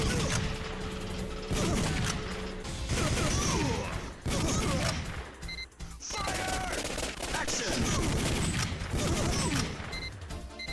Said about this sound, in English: you can shoot the enemies 3 times and it makes them despawn faster